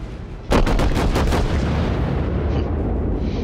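Heavy battleship guns firing in World of Warships, with a loud close boom setting off a quick rattling volley of secondary shots that rolls into sustained rumbling.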